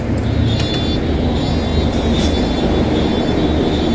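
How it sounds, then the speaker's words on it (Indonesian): A bus pulls up with a steady, loud engine rumble and a thin high whine running through it, continuous and close throughout. "ini bisnya sudah datang ya"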